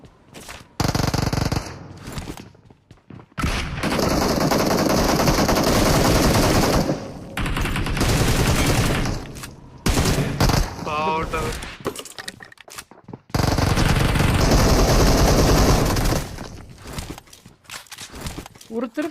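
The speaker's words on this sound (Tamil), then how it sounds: "ஷார்ட் கன் அடிப்பான்." Shotgun fire in a video game comes in loud, dense, sustained bursts broken by short gaps, with a player talking throughout.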